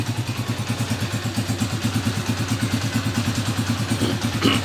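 A sidecar motorcycle engine with a freshly tuned carburetor idles nearby with a steady rapid thumping pulse, loud and even, with a slight rev near the end.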